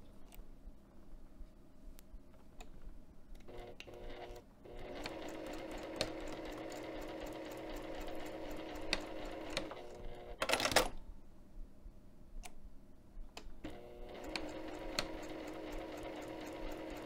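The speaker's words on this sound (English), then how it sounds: "I'm going to back stitch, and then I'm going to pick it up at the second marking and then sew back down to the bottom" Sewing machine back stitching a bag side pocket, a faint steady mechanical whir running for most of the stretch with a few soft clicks and a brief louder rattle partway through.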